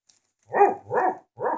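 Voice imitating a toy dog's barking, three close, breathy woofs in a steady rhythm during play with toy animals in a tent, loud and near with no other sound.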